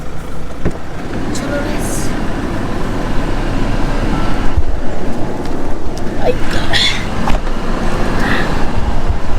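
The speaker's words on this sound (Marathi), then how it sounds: "गाड्यांचा ताफा आता निघालाय" A car engine rumbles steadily as the vehicle pulls away from a campsite, its wheels spinning, with road noise building over several seconds and voices talking underneath.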